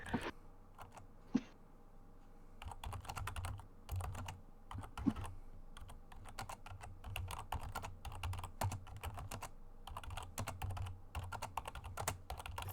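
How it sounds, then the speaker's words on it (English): Rapid computer keyboard typing, close and fairly quiet, with irregular bursts of keystrokes separated by short pauses and no talking. "That's a lot of typing."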